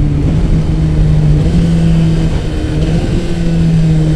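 A 2017 Kawasaki Ninja ZX-10RR litre-class motorcycle engine droning loudly and steadily up close, its pitch shifting slightly as it downshifts with the throttle closed.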